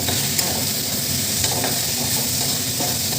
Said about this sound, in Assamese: এনেকৈ অলপ সময় ভাজিম এনেদৰে কিছু সময় ভাজাৰ পিছত